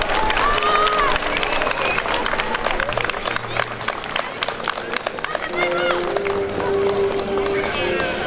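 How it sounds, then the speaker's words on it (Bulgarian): Dense clapping and cheering from an outdoor crowd at a Third of March Liberation Day celebration in the town of Petrich, Bulgaria, sustained and lively, with a voice speaking over a loudspeaker on top. "аплодисменти за всички тях"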